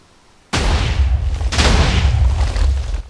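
A cannon in a video game fires twice, each a loud, sudden booming blast about a second apart, the second one sustaining into a long rumbling roar.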